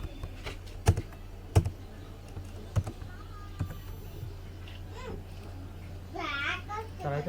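Keys clacking on a computer keyboard while an IP address is entered, several sharp separate keystrokes close by over a low hum, with a child babbling in the background.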